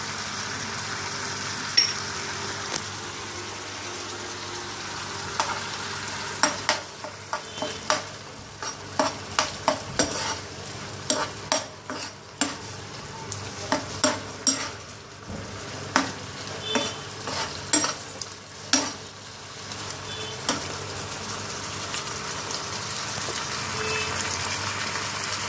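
Prawns frying with ginger garlic paste in a pan, a steady sizzle with bursts of stirring and scraping in the middle stretch, close and fairly loud with no voices.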